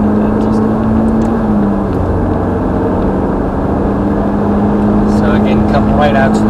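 A Ferrari F430 on Thruxton Circuit pulls ahead with a steady, loud engine drone that holds near one pitch as it gathers speed. A voice talks over the engine throughout.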